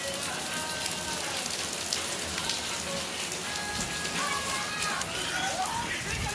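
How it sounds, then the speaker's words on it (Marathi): Steady rain falls onto a concrete roof slab in heavy, continuous hiss with dense patter, uniform and close throughout, with no voices. "2-3 दिवस झालं पाऊस एक पडला मोठा, थांबला आणि आज चालू झाला बघा"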